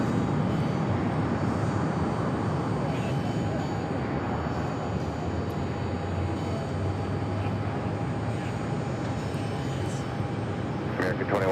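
An American Airlines Airbus A321 landing at Phoenix Sky Harbor after a flight from Los Cabos, its steady, broad jet roar held at moderate distance while people chat over it.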